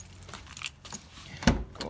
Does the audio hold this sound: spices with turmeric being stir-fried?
no